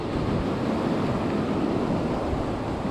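Ocean waves crash on the rocky St Croix coast beside a natural swimming hole, a loud continuous roar of surf with wind buffeting the microphone and no voices.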